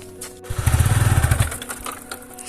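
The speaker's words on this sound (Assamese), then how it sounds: "প্ৰথম ইয়াৰ বাইকখন চলাই লওঁ এপাক" A modified Yamaha MT15 motorcycle fires up with a loud, close, throbbing burst of engine pulses lasting about a second, then drops back to a lower rumble.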